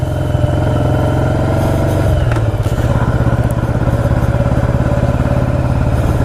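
A 1985 Yamaha Virago motorcycle cruises along a road near East Hampton, New York, its engine a loud, steady low rumble with a continuous throb and some wind noise throughout.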